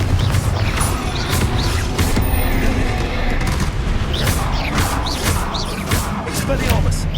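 Confringo blasting spell explosions in Hogwarts Legacy combat: repeated booming bursts and crackling impacts, several in quick succession, loud and close amid dense battle noise.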